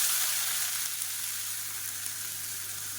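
Chopped onion frying in hot oil for a chicken side dish, a steady, fairly loud broadband sizzle that holds evenly throughout with no talking.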